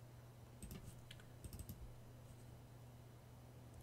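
Short bursts of keystrokes on a computer keyboard, two quick clusters of clicks typing a command in a Simulink session, close and moderately quiet over a steady low electrical hum.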